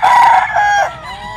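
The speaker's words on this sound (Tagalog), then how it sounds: "Ayan po yung mga manok niya." A rooster crows loudly and close by at a gamefowl market where roosters are sold, one sustained cock-a-doodle-doo call that tails off, with no talk over it.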